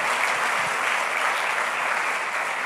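A church congregation applauds in praise of the Lord, a steady dense clapping that holds evenly throughout with no pauses or voices rising above it.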